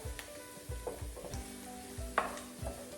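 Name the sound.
garlic sautéing in a pan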